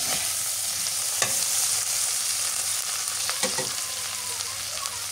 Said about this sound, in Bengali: এবার মাছ দিয়ে দিই। মাছের মাথাটা দিয়ে দিলাম।